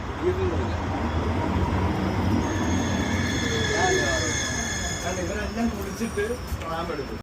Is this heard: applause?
no